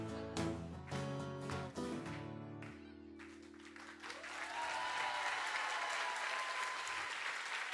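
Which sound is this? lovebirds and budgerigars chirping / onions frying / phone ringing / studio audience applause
studio audience applause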